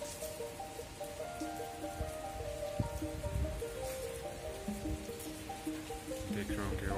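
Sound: morning rain falling in Shimla

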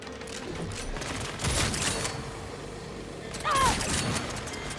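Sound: gunfire in the video game Saints Row

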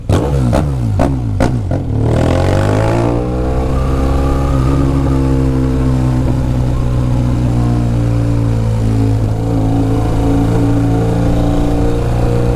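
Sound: motorcycle engine revving

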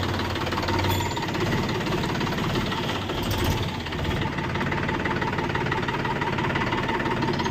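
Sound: Mahindra 405 tractor engine running

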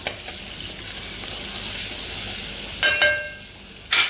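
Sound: stirring turmeric and spices frying with ginger and garlic

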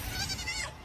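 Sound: sheep bleating in Palworld video game

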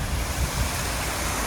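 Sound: waterfall

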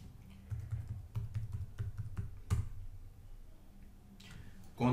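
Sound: typing on a computer keyboard

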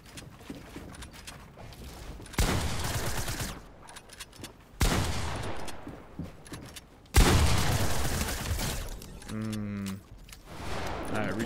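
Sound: gunfire in a video game 1v1 match

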